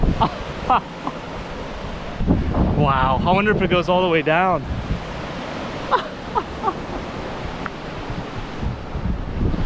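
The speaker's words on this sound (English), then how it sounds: "It's literally a sea cave." Ocean waves wash and roar inside a sea cave on the Oregon coast, with steady surf and wind noise throughout. A person talks over the water.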